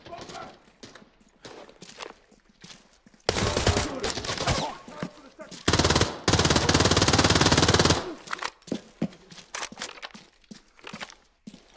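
Bursts of automatic gunfire in the Arena Breakout shooter game, two sustained loud volleys rattling for a couple of seconds each, with players calling out over team voice chat before and after.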